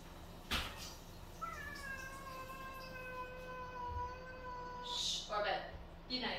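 A cat indoors gives one long, drawn-out, wavering meow, calling to a visiting cat, with knocks and rustles before and after.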